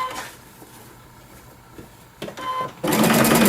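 A sewing machine stitching with a wing needle, quiet rhythmic whirring and ticking at first, then a louder, faster burst of stitching near the end.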